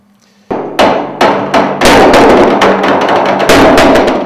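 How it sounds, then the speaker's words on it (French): A hammer on a modified rocket tester drops repeatedly onto metal, each blow a loud, sharp clang ringing out over an amplifying tank beneath, about eight strikes in quick irregular succession after a faint hum. "Quand le marteau retombe, le son il est amplifié par la citerne qui se trouve dessous"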